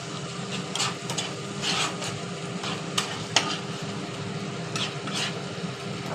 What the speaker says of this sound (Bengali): ভালো করে মিক্স করে নিই। বেশি নয়, 2-3 মিনিট মতো মিশিয়ে নিলেই হবে।